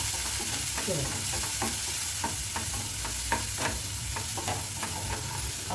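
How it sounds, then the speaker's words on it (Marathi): Chopped onions with peas fry and sizzle in a pan for upma while being stirred, a steady close hiss under repeated scraping strokes of a spoon, with no talking. "कांदा थोडासा ब्राऊन करून घेऊया"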